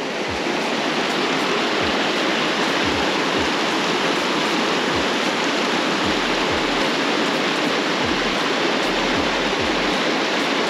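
Creek water pours over a small drop of roughly eight feet in a redwood forest, a loud, steady broadband rush of falling and splashing water that runs unbroken throughout, with no voices.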